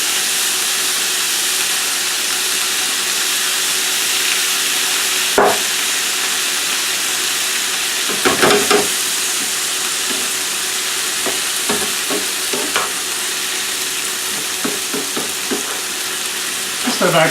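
Beef stir fry with Marsala wine and soy sauce cooks in a pan, throwing off a loud, steady frying hiss, with occasional sharp clacks and scrapes of a utensil against the pan.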